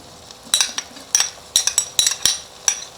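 Tomatoes and green chillies being stirred and fried in a pan for an omelet, with several sharp, close utensil scrapes and clinks against the pan over a faint sizzle.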